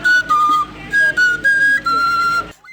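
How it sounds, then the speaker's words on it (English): Oja, a traditional carved wooden Igbo flute, plays a short phrase of clear, piercing held notes and quick steps, loud and close, over a soft background beat. "This is the sound of Oja"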